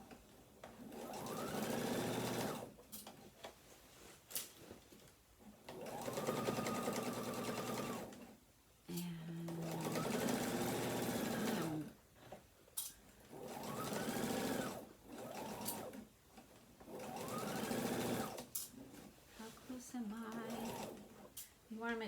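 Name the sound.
sewing machine top stitching a tote bag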